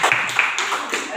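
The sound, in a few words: applause for group one in a classroom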